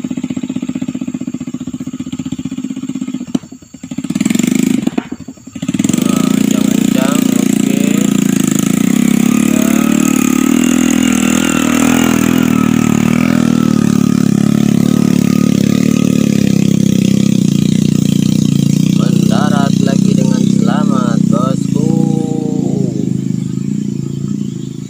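A small kick-started palm oil hauling vehicle engine runs after a brief stumble, settling into a loud, steady idle with occasional revving, heard close up with a faint voice briefly at the end.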